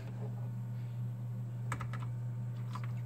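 Typing on a Game Power OGRE RGB mechanical keyboard with a braided cable: a few sharp, close key clicks stand out over a constant low electrical hum, with no talking.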